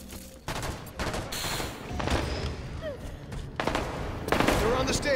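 Gunfire in a Halo 5 multiplayer match cracks out in several loud, close bursts separated by short gaps, with voices heard in the mix.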